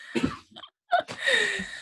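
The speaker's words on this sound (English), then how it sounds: "You can cough." A couple of short, throaty coughs, close and fairly loud, with a brief pause between them.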